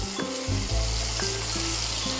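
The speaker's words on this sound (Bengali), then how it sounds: "আর এখানে যে আমি পেঁয়াজটা ভাজছি" Onions fry lightly in a pan before being ground to a paste for reshmi cabbage, making a loud, constant close sizzle with a steady low hum beneath it.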